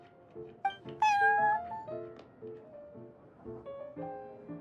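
A cat meows in the video game Genshin Impact at the Cat's Tail tavern, one clear rising meow over soft background game music, close and fairly loud.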